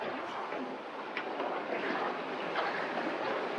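Sea waves wash and slap around a sailboat in rocky seas with strong wind, a steady broadband rush with gusty swells and no clear speech.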